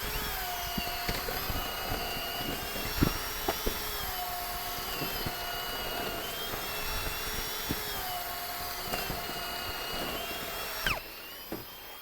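Milwaukee M18 drills with FORGE batteries bore a row of three holes: a steady high motor whine with several motors running together, ending in a sharp cut-off near the end, and no talking.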